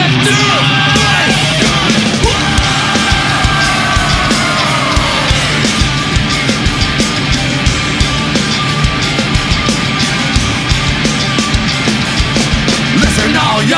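Crowd at a Korn and Slipknot live show in London, 2015, screaming and yelling continuously for several seconds, a loud dense roar of many voices with rhythmic thumps cutting through.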